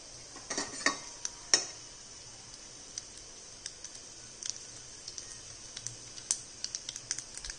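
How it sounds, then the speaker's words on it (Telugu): Mustard seeds, cumin and chana dal tempering crackles in hot oil in a pan, with sparse sharp pops and small ticks scattered over a faint sizzling hiss, fairly quiet and close. "ఆవాలు, జీలకర్ర తెలుసుకొని పోపు దినుసులు వేసాను"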